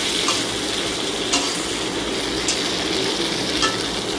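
Tomatoes frying in a pan for an Odia-style chicken skin fry, a steady close sizzle with faint clinks of a spoon, no talking.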